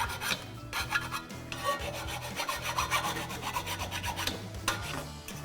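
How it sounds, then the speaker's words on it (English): Steady rasping strokes of a hand file cleaning up cut edges on a metal exhaust pipe while a 2015-2023 Mustang GT resonator delete X-pipe is fitted, close and fairly quiet, repeated back-and-forth scraping without speech. "And then just clean up the edges with a file."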